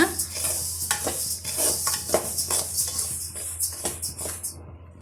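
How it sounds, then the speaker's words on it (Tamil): Millet grains scrape and rustle as a spoon stirs them around a hot pan over medium heat, with steady rhythmic strokes and a light background sizzle. "இதையும் நல்லா மிதமான தீயில் வச்சு நம்ம வறுத்து எடுத்துக்கலாம்."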